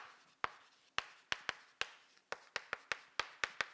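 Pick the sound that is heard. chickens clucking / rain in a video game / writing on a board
writing on a board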